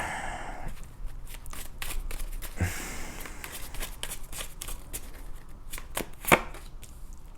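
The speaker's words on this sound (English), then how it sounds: "I want to pull all the cards and then the oracle cards" Tarot and oracle cards being shuffled and pulled from a deck, a run of soft, papery riffling and flicking taps spread across the stretch, fairly close, with a sharper snap near the end and no talking.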